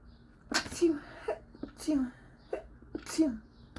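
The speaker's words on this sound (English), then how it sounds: "I'm gonna sneeze, I'm sorry." Several sharp, noisy sneezes burst out close to the microphone during a spoken spiritual reading, each followed by a short vocal sound, spaced roughly a second apart.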